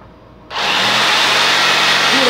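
A SIGA Tools ST306 SDS Plus rotary hammer drill, 1200 W, starts abruptly after a short quiet moment and then runs with a loud, steady, harsh whirr that continues to the end.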